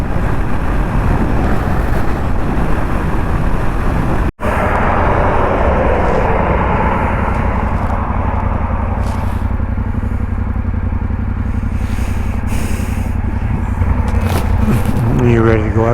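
A motorbike fitted with crash bars rides down a highway, a loud, steady engine drone and wind rush throughout, with a brief dropout early on and a rider talking over the noise.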